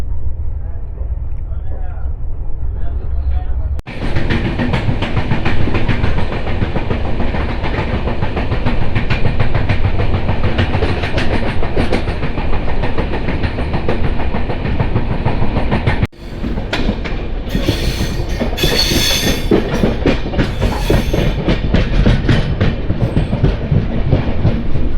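Mandovi Express train running from Madgaon to Mumbai, with a loud, steady rumble and clickety-clack of wheels on rail throughout, broken by two brief dips, brighter hiss toward the end, and some voices in the background.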